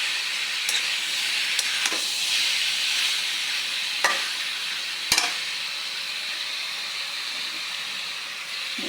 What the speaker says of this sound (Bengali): গরম পানিটা দিয়ে দিলাম।